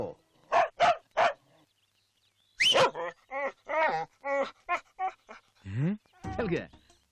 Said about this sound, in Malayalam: നായക്ക് ആളെ പരിചയമില്ലാത്തോണ്ടാണ് ഈ കുര